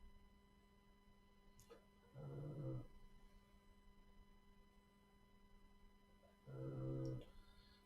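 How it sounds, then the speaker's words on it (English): A sleeping dog snores softly indoors, two separate low rumbling breaths a few seconds apart over a faint steady electrical hum. "a dog is out cold snoring"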